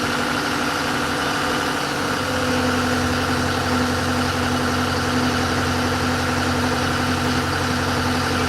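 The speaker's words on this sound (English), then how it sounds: "I wonder if it's just exhaust vibration." A boat engine idles steadily with a low, droning exhaust vibration, continuous and close with no talking over it.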